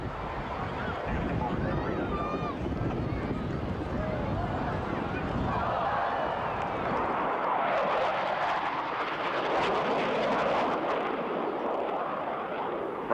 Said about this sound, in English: Blue Angels 5 and 6 are approaching the flight line in line abreast formation directly before us.